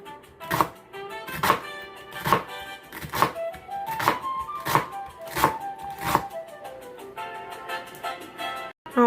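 A knife chops celery into small pieces on a cutting board, about eight crisp, evenly spaced knocks ringing out close and clear with no one talking.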